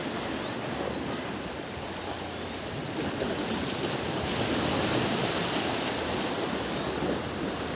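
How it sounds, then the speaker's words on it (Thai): Sea waves wash onto a beach at sunset near Chanthaburi, Thailand, a steady broad roar of surf that swells slightly midway and continues without a break, with no voices. "โอ้ น้ำทะเล อย่างฟินเลยครับผม"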